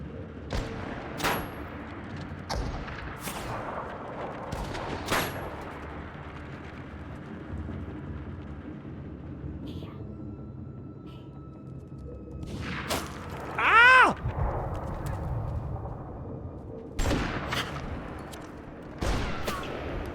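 Gunfire in the video game REANIMAL: a run of sharp shots and bursts, some loud and close, spread across a steady rumbling background with no talk.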